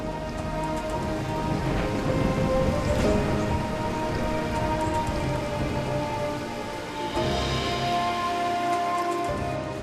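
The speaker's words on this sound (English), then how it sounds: "When we arrived, a thunderstorm broke loose." Heavy rain pours down during a thunderstorm beside a small hut in the reeds of southern Hungary, a steady dense patter on surfaces with a few louder splashes and a faint low rumble.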